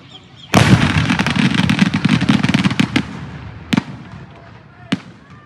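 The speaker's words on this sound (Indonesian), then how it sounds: "Balon udara tanpa awak berisi petasan meledak hingga mengenai sejumlah remaja di area persawahan" Firecrackers carried by an unmanned hot-air balloon explode over rice fields, a loud burst crackling in a rapid barrage for a few seconds, then fading into a couple of isolated sharp bangs.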